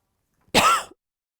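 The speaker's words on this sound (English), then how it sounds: "All this yarn is making me cough" A single short, harsh cough up close, isolated in silence.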